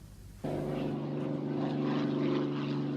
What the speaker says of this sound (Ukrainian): Сьогодні під Києвом показові польоти влаштував е, влаштували ретролітаки